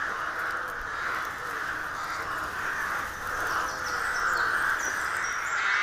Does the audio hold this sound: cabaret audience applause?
no